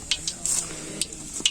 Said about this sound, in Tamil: பட்டை வகையெல்லாம் நல்லா வதங்கிடுச்சு.